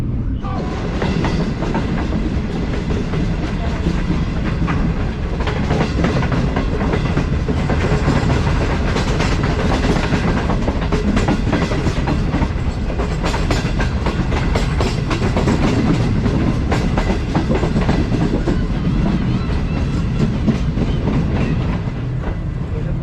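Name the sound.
Green Line Express passenger train running on tracks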